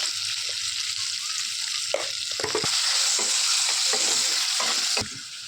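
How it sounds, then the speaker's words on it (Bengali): Loud, steady sizzling of potatoes with turmeric and salt frying in hot oil, with occasional scraping and knocking from stirring throughout. "এই একই তেলে আবার আলুগুলো দিয়ে দিচ্ছি একটু হলুদ আর একটু লবণ দিয়ে নেবো দিয়ে ভালো করে ভেজে নেবো"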